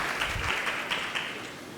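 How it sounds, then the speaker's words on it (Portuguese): A church congregation applauds warmly during a Brazilian theology meeting, a dense, steady clapping from a crowd that holds throughout, with faint speech beneath it. "Uma calorosa salva de palmas"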